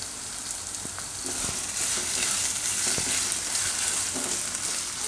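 Bottle gourd pieces frying in oil in a pan give a steady, fairly loud sizzle and crackle, with a few soft clinks and stirring knocks scattered through it.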